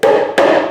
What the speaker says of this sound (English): hammer it lightly